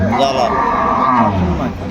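Cattle lowing at a rural cow market in Bangladesh, a loud close moo lasting most of the moment amid background crowd chatter.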